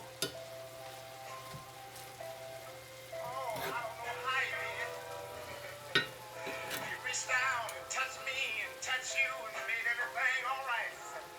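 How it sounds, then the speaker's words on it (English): Collard greens frying in a skillet give a steady sizzle with a few clatters of utensil against the pan, partly under someone talking close by. "We doing us some collard greens and a skillet."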